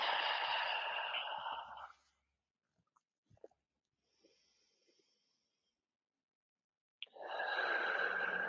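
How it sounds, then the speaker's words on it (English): Two slow, deep belly breaths, each a long airy inhale or exhale close to the ear, separated by a quiet pause with a few faint small sounds and no talk. "Big belly breaths."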